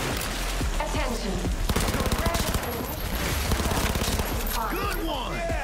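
Rapid gunfire in the video game Cyberpunk 2077, dense repeated shots in fast volleys under excited voices and game dialogue, loud and continuous throughout.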